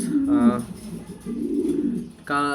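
Colorful pigeons coo in low, throaty bursts, several calls overlapping close by, with a steady murmur of the flock between them.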